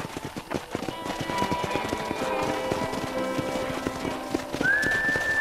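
Steady horse hooves clip-clopping at a walking pace in Red Dead Redemption, with a soft whistle rising near the end over a background of ambient game sound.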